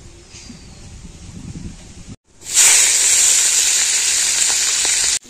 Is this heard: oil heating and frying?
yes